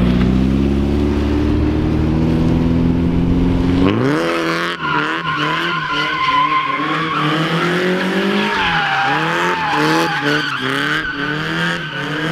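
A Nissan 240 drifts on newly fitted engine mounts: the engine revs hard and climbs, then tires squeal and skid loudly for several seconds in continuous wavering screeches, close and without talk.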